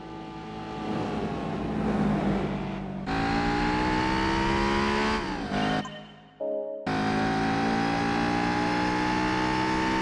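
A Renault 5 Turbo's engine in the Gran Turismo 4 racing game, loud and steady with shifting gear pitches, a brief drop and cut in revs, then it resumes at full throttle.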